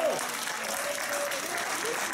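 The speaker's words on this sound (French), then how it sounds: "qu'on applaudisse très très fort tous les enfants" A crowd at a children's relay race in Isola claps warmly for the kids, a steady, full wash of applause with a voice faintly heard over it.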